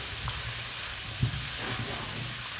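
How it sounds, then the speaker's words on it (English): Butter sizzles gently in a pan over low heat, a steady even hiss with a faint low hum beneath and a single soft knock partway through. "I'm going to let that one cook for a few seconds before I add the ginger."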